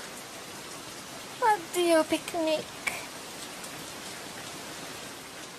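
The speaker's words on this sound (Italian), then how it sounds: "Piove." Cartoon rain from La Pimpa makes a steady, even hiss throughout, while a character's voice speaks briefly over it.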